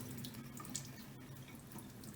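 Water runs steadily from a tap while a Shark Stratos Pet Pro vacuum's foam filter is rinsed, a continuous even splashing hiss with no talk.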